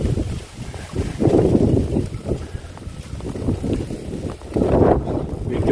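Wind buffets the microphone during a bicycle ride along a mountainside road, producing a loud, steady rumble that swells in gusts.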